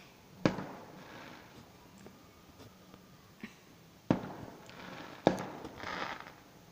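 Fireworks going off outside at night, a few distant sharp bangs spaced irregularly, with faint crackling tails after some of them over a quiet background.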